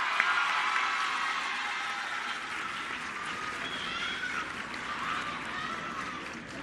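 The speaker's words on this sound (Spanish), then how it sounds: "Un aplauso a la Presidenta." Crowd applause for the President at a school inauguration in Jalisco, a steady, even wash of clapping that sounds somewhat distant and fairly soft, with no talking over it.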